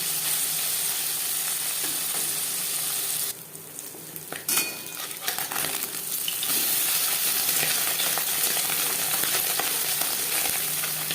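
Marinated puti fish frying in hot refined oil gives a steady, close crackling sizzle, with a brief dip and a few clinks midway before the sizzle comes back at full strength.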